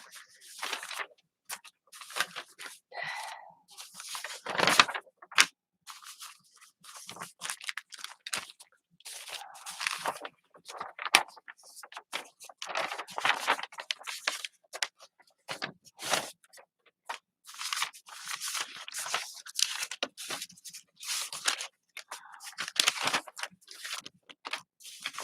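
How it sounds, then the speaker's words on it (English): Paper handled during a mixed-media crafting session, heard as a long run of dry crunching and crinkling bursts, close and fairly quiet, with brief pauses between handlings and no talk. "I love the sound of the paper when I get it done."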